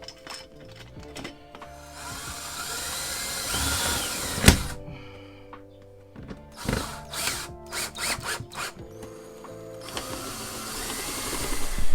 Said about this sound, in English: I'm also going to go ahead and screw this back down